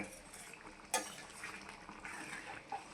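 Brinjal milk curry being stirred in a pan, with a spoon scraping and clinking against the metal in soft, irregular strokes and one sharper knock near the start, over a steady low simmering hiss.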